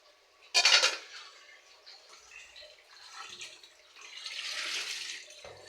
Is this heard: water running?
yes